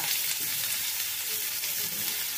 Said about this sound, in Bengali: দিয়ে দেব একটা মাঝারি মাপের পেঁয়াজ কুচি। দিয়ে দেব 1/2 ইঞ্চি পরিমাণ গ্রেট করা আদা।